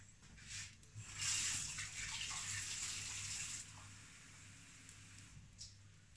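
A kitchen tap runs steadily into a sink or bowl, a soft continuous hiss and splash of water that swells early and then settles, heard alone and fairly faint.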